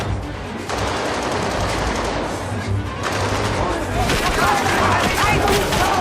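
Bursts of gunfire from a Babylon Berlin TV episode, rapid repeated shots in quick volleys over about six seconds, loud and dense, with a voice talking underneath.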